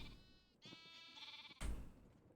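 Bleating from sheep in the Minecraft video game, two drawn-out quavering cries one after the other, fairly loud and clear, followed by a burst of noise with no speech.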